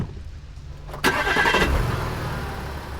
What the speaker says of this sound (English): locked the doors immediately and started the truck.